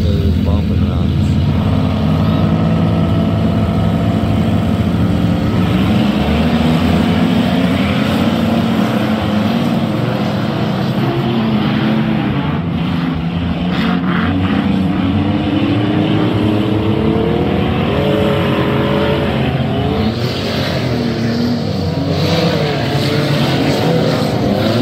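Cars roaring around a dirt track in a county fair bump and run race, loud continuous engine drone with revving and shifting pitch throughout, a voice talking over it.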